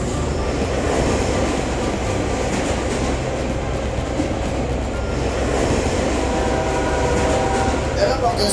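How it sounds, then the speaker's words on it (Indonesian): Animated cartoon trains racing, one slow and one fast, a steady rumbling clatter of rolling rail wheels with continuous mechanical noise, loud and close, with speech mixed in. "Kami memiliki kereta lambat seperti Donald dan kereta cepat seperti Benny."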